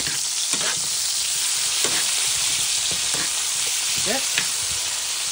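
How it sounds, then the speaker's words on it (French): Vegetables simmer in a pan with a loud, continuous sizzling hiss, punctuated by occasional light clicks and scrapes, close up; a brief word is spoken once. "je vais laisser mijoter pendant 2 ou 3 minutes"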